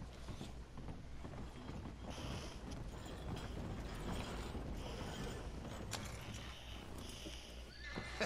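Horse in the video game Red Dead Redemption 2, neighing and clip-clopping its hooves amid creaking wagon mechanisms over a low rumbling backdrop, all quite faint and continuous.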